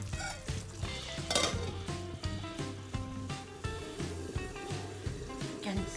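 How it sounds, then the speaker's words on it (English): Anglo-Indian beef pepper fry simmers in a covered pan with a constant close bubbling sizzle, broken by light clinks and knocks of metal against the pot. "it's simmering well"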